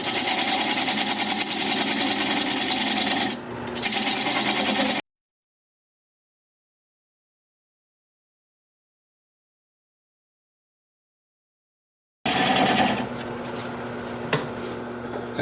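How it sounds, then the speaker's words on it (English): A wood lathe spins at 600 RPM while a 3/8 inch standard grind bowl gouge cuts away a tenon, making a loud, steady, rough cutting whir that stops abruptly, leaves a long silence, then resumes. "I'm going to take this 3/8 inch standard grind bowl gouge and commence to removing that tenon"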